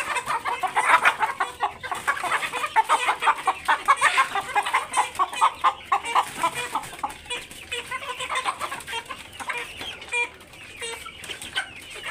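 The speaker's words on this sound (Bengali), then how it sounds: "টাইপের মুরগিগুলো আপনাদের দেখাবো।" Crossbred hill chickens and roosters cluck in a rapid, rhythmic chorus of repeated calls, loud and close, easing off toward the end.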